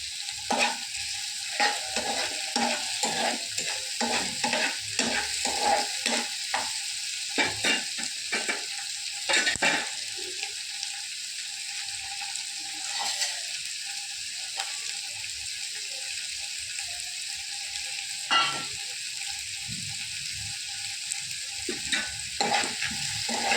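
Dried red chilies and a little tamarind fry in a pan, giving a soft continuous sizzle under frequent clicking spatula stirs and scrapes that come in bursts, then thin out toward the end.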